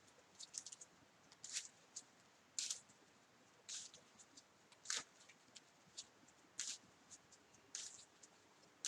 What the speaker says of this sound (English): then we shuffle the deck